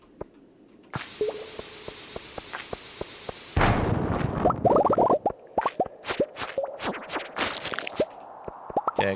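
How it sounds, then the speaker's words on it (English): A mega bomb in the Stardew Valley video game: a hissing fuse runs steadily, then a loud burst goes off, followed by a rapid scatter of popping and clinking as debris flies, with no talk. "Mega bomb."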